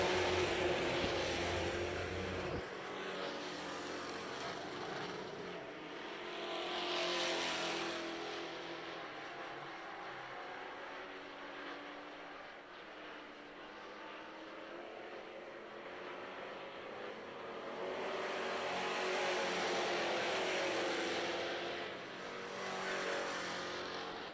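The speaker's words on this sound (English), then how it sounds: "Another round of ProStocks going to be making their way onto the track momentarily." DIRTcar Pro Stock race cars running on a dirt oval track, engine roar swelling and fading as they pass at a distance, steady broadband rumble with louder surges every few seconds and no talking.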